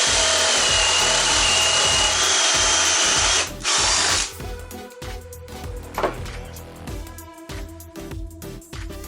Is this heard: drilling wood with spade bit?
yes